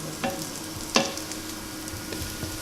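Slices of bread fry in oil in a pan while being made for oeufs en meurette, a steady close sizzle with a couple of sharp crackles and light stirring clinks.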